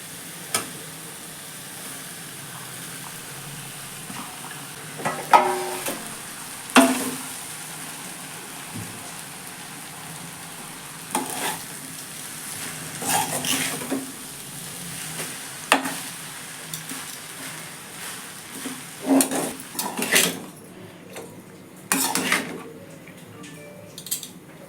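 Cooked rice is stirred into frying lady's finger in a pan: a soft, steady sizzle runs under intermittent scraping and clanking strokes from a utensil, closer and louder in short bursts.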